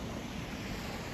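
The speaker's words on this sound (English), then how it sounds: "There's the Atlantic Ocean." Atlantic Ocean surf on Driftwood Beach, Jekyll Island, Georgia, a steady loud wash of breaking waves mixed with wind rumble on the microphone, continuous and unbroken.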